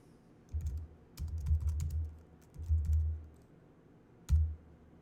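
Keys on a computer keyboard clatter in quick bursts while code is entered, with short pauses between runs of typing, close and clear, with no talking.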